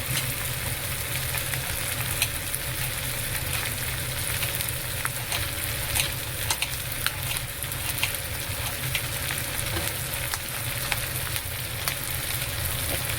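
Onions fry in a pan with a steady, dense sizzle that holds evenly throughout, punctuated by occasional faint clicks and a low hum underneath; no one speaks.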